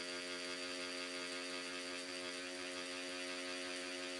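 A Stigma Hyper V3 rotary tattoo machine runs at 9 volts with a steady, even electric hum and whir that holds constant throughout, heard close.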